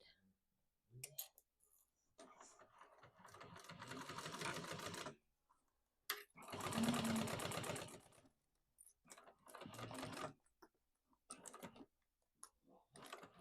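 Sewing machine basting the side of a messenger bag in a few short runs of rapid clicking stitches, the longest about two seconds, with a voice speaking quietly in between.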